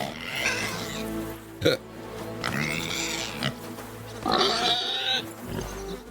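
A pig in the medieval role-playing game Kingdom Come Deliverance 2 grunts and squeals in several bursts, the loudest a shrill cry near the end, over low background ambience and music.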